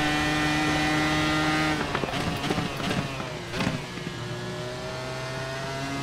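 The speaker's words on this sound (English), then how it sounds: "The downshifting and the backfire." An iRacing Formula IR-01 engine at the Nürburgring drones at high pitch, then drops through a quick series of downshifts with sharp popping backfires before settling into a steady whine, in a video game.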